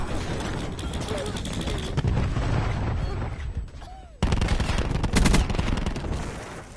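In a video game, gunfire rattles in rapid bursts and a thrown cluster grenade sets off several loud booming blasts. The mix is dense and close, with sharp rapid volleys in the second half.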